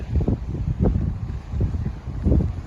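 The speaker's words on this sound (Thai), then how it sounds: "เสียงลมแรงหน่อย คลื่นแรงมากเลย" Strong wind on the beach at Prerow on Germany's northern coast rushes and buffets close to the microphone in loud, uneven gusts, with no voices over it.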